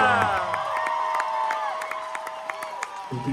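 Concert crowd at a House of Blues show in Orlando cheering and clapping for an Icelandic band, with scattered whoops over a sustained wash of applause that fades slightly toward the end.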